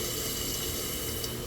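Water rushes steadily into a toilet tank after a flush valve and flapper replacement, a constant close hiss and gurgle with no talk.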